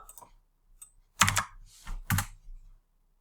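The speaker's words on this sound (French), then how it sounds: "Donc, je tape localhost 3000." A computer keyboard being typed on in a quiet room, a few light taps followed by three quick dense bursts of keystrokes, close and clear with no voices.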